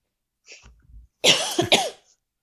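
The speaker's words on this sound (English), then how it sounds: "will just cough uncomfortably now" A soft throat noise, then a single loud, close cough with a rasping double burst.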